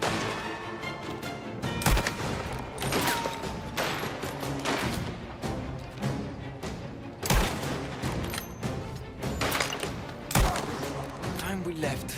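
Repeated gunfire from a manually reloaded rifle in a Mafia: The Old Country game session, with sharp shots at irregular intervals over continuous in-game noise and combat clutter, while someone talks throughout.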